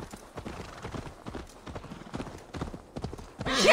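Horse hooves in the video game Assassin's Creed Valhalla clip-clop in a steady trotting rhythm, moderately close, ending with a short burst of louder noise.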